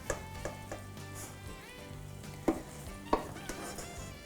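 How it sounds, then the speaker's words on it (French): A bean and vegetable mixture stirred into rice for Tex-Mex stuffed peppers, soft low scraping and shuffling of a spoon with a few sharp clacks against the pan, quiet and close, over a faint sizzle. "je mets le mélange d'haricots dans le riz"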